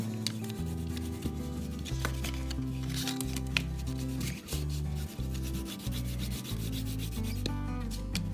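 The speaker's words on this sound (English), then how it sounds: "It's kind of hard to color gray on gray cardboard." A gray crayon rubs across gray cardboard while coloring a cardboard elephant craft, producing close, repeated scratchy strokes under a steady low background hum.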